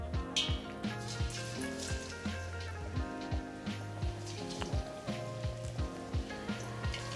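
Chicken karaage pieces fry in hot oil at about 170 degrees, giving a steady, close crackling sizzle with repeated bubbling pops throughout, alone without talk.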